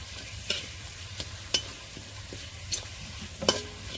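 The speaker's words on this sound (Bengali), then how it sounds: "এবারে দিয়ে দেবো পেঁয়াজ। হালকা করে একটু ভেজে নেব।" Onions frying lightly in a pan for a dal with jackfruit seeds, a soft steady sizzle with a few stirring scrapes and knocks of a utensil against the pan, close and moderately quiet.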